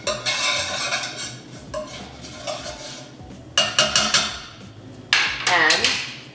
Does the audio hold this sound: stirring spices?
yes